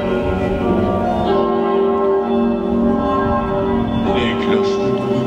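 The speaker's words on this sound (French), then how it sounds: "Les cloches s'appellent pour la dernière fois." Church bells ring the alarm steadily with long sustained tones, a dense clangor carrying through the whole passage, during the Cinéscénie night show at Puy du Fou, Vendée.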